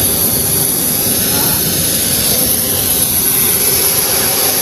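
Private jet engine gives a loud, steady, unbroken roar with a high whine on top, close by and constant throughout.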